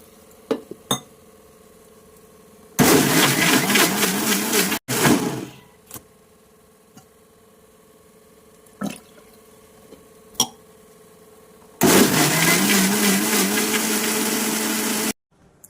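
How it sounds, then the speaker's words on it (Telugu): A kitchen mixer blends avocado with jaggery and raw milk in two loud, steady bursts of a few seconds each, with clinks and brief knocks of handling in between and no talking. "పచ్చిపాలు పోసుకొని మిక్సీ చేసుకోవడమే."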